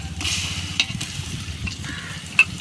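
Onions and ginger garlic paste sautéing for biryani in a pan, a soft steady sizzle broken by a few scraping stirs of a spoon against the pot, close and moderately quiet with no talking.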